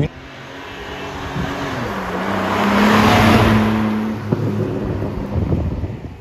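A BMW M2 engine drones and rises as the car accelerates under wind noise, its pitch climbing then settling, heard from inside the cabin with no talk.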